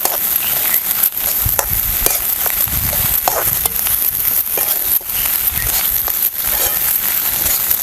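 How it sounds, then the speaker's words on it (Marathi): Onion and green chillies, pounded in a mortar, sautéing in a small amount of oil while being stirred, giving a steady close sizzle with scraping stir sounds and faint crackles throughout. "ते सुद्धा आपल्याला कांदा बरोबर परतून घ्यायचं"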